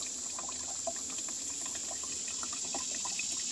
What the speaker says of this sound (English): We'll know for sure once I pour it into a glass.